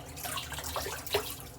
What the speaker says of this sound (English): We'll put a little water on our face.